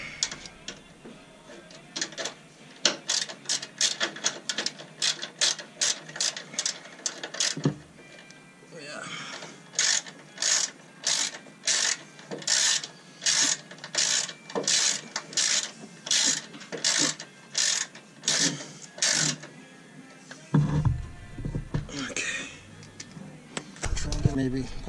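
A ratchet clicks in repeated rhythmic bursts while bolts are tightened on Rocky Road rock sliders mounted on a Hummer H3, close and clear, with a brief pause and some other handling noise near the end.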